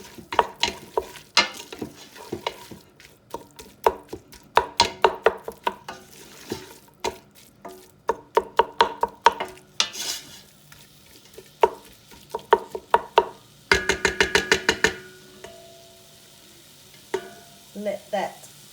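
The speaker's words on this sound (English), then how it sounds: "Now we give this a stir," Beef bolognese with beef stock is stirred in a hot pan: close, repeated scraping spoon strokes over a soft sizzle, with a brief burst of quicker strokes near the end.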